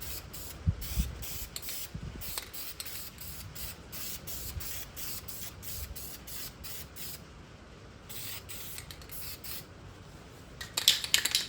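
An aerosol spray can hisses in repeated short bursts over engine parts for an LS Brougham Box Chevy's Blueprint engine, each burst evenly spaced, steady and close, with a few louder clatters near the end.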